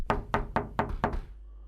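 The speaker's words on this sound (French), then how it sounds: "il frappe à la porte" Five firm knocks on a wooden door, evenly spaced and close, each a dull hollow thud, followed by a brief quiet tail.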